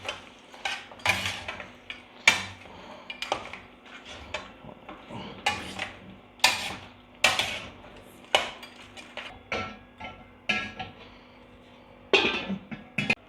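Ginger garlic paste and tomato being stirred into Peshawari mutton karahi, with a spoon clanking and scraping against the metal pot in steady repeated strokes, close and moderately loud.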